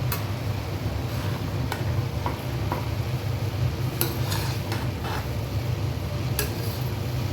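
A spoon stirs sprouted moong and methi in a cooking pan, giving a steady scraping, sizzling texture close up with a few sharp utensil clinks against the pan.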